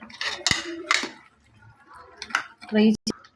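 A metal lid goes onto a cooking pot of bottle gourd mutton curry with a short clank and clink near the end, among scattered kitchen handling noises. Someone talks over parts of it.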